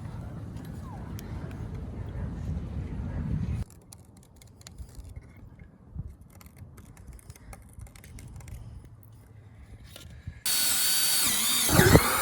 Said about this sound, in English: mark your holes to drill